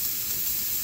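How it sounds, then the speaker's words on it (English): Steam hisses steadily from a leaking Donkin steering engine, a close, loud and unbroken rush with no voices. "So you need a flow of steam always going through the steering engine to keep it warm and ready to work."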